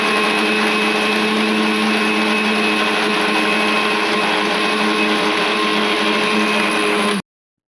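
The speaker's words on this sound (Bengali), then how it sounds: "তো সব কিছু এভাবে গরম করে নিয়ে মিক্সারের মধ্যে গ্রাইন্ড করে নেবো।" An electric mixer grinder whirs steadily while grinding dry-roasted whole spices for homemade masala, a loud continuous motor drone with a high whine that runs alone for about seven seconds, then cuts off abruptly.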